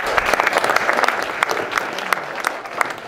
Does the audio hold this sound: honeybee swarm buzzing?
no